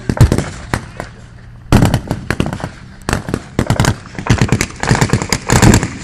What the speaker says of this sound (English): we've got a distinctive black puffs of mortar rounds exploding in a circular fashion and dispensing shrapnel fragments in 360 degrees